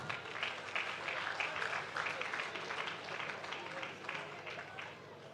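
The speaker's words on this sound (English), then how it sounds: "Please let's give them a round of applause." Steady audience applause at a Datafest Africa 2024 team presentation event, a dense, even wash of clapping from a crowd that holds at one level throughout without fading.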